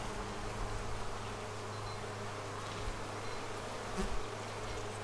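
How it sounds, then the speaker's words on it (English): Dense, steady buzzing of many honey bees swarming close by around an open hive, a continuous droning hum with no pauses. "There's so many bees,"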